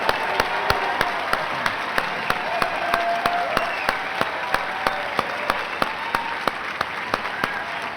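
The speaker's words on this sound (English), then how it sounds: "Give them a round of applause." A junior high graduation audience applauds students with steady, dense clapping that holds at an even level across the whole stretch, with a few sharper individual claps standing out near the front and no voices on top.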